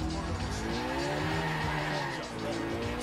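Tires squealing and skidding through a drift in Grand Theft Auto IV, a sustained screech over engine roar lasting the whole moment, with a voice talking faintly underneath.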